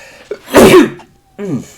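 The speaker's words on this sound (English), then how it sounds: "And I gotta sneeze." A single loud sneeze with a sharp intake of breath, followed by a brief voiced exclamation.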